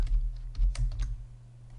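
Quick bursts of typing on a computer keyboard while entering data into a spreadsheet, several close, crisp key clicks in an uneven rhythm, alone with no talk.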